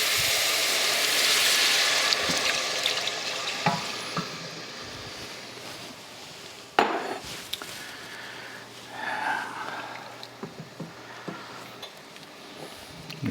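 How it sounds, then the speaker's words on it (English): Prawn stock pours into a pot of lightly browned garlic, a loud broadband rush and sizzle that starts strong, settles, then flares again with a sharp splash midway and a few scattered knocks near the end. "Now we'll add our 2 cups of beautiful prawn stock"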